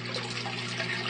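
Home aquaponics system starting its water cycle, a steady rushing, gurgling flow of water like a toilet flush, continuous and fairly loud with no voices.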